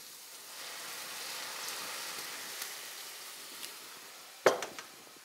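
Shallots sizzling softly in a pan, a steady faint frying hiss throughout, then a sudden louder burst of sizzle near the end as white wine hits the hot pan and bubbles off.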